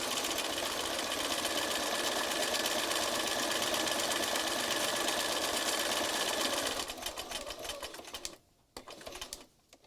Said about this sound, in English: So it's 3 stitches to every swing of the needle